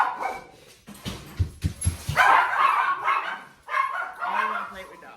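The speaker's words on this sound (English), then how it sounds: "I don't want to play with dogs." Dog barks in a short burst of several sharp woofs, close and fairly loud, followed by someone talking over a busy kitchen room.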